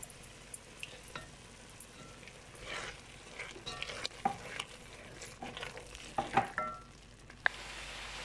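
Minced meat frying with spices and canned tomato in a pan for lasagna, a soft steady sizzle broken by scraping stirs and occasional clinks of the spoon, close by with no talk.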